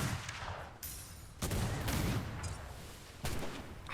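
Ship cannons firing in a naval roleplay game, heavy booming shots at intervals, each with a long rumbling tail, fairly distant and moderately loud.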